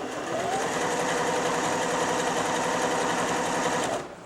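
A Janome 760 sewing machine running stitch 05, a steady, rapid mechanical whir and rhythmic needle clatter heard up close for several seconds before it stops abruptly.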